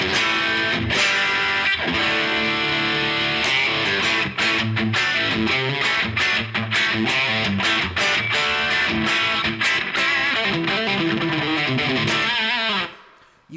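Electric guitar from PJD fitted with slightly noisy vintage PAF-style pickups, played with loud, distorted chords and riffs throughout before the sound cuts off abruptly near the end.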